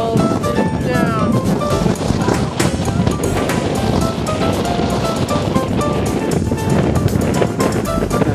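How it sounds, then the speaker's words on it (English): Strong wind roars across a summit of Mt. Chocorua, a loud, constant buffeting rush with heavy microphone wind noise that barely lets up for the whole stretch. "It's friggin' ass windy out here."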